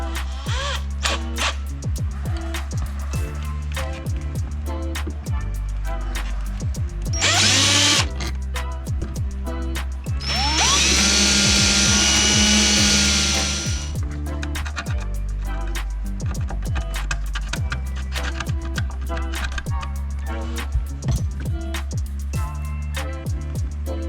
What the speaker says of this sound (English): basically I did is I drilled a hole, I scratched the area so it's exposed metal, because it is metal.